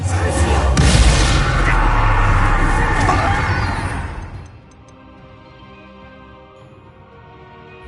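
A Bombarda explosion spell in Hogwarts Legacy, a loud, booming blast that roars for about four seconds before fading to a low, quiet rumble.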